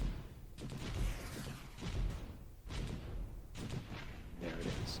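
Sci-fi space combat in the strategy game AI War: Fleet Command as a needler turret is destroyed, with repeated booming blasts and thuds recurring every second or so, loud and close throughout.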